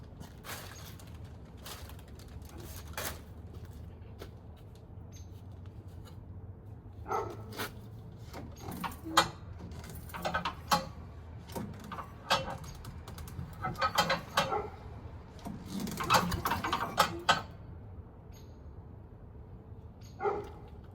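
A yard debris collection machine chewing through sticks, with steady mechanical rumble under repeated sharp cracks, snaps and clattering bursts that grow busier toward the end, close and loud.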